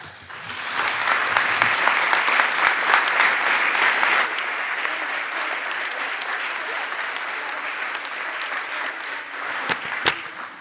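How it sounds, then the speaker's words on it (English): Sustained applause from an audience giving a standing ovation at a morning session, loud and dense throughout, easing slightly after the first few seconds but continuing steadily to the end. "I haven't seen a standing ovation here before, and you got one this morning."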